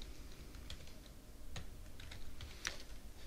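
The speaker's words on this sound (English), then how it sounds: "So here you could simply type in the link that you're after" A web link is typed on a computer keyboard as a soft, steady patter of key clicks with a few sharper taps, quiet and close with no talking.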